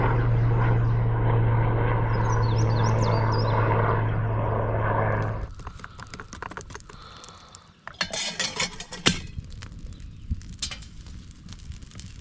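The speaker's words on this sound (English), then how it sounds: "Well, we can't hear any roads, but we have helicopters coming over." A steady, low thrumming rotor drone of a Coast Guard helicopter passing overhead a Michigan river campsite, which stops abruptly and gives way to light clinks and clattering nearby.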